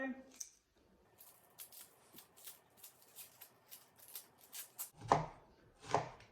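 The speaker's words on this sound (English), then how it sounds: "So just peel your onion like so" A knife peels and cuts an onion on a board in a home kitchen, giving a run of crisp, evenly spaced chopping taps followed by two louder thuds, close and fairly quiet.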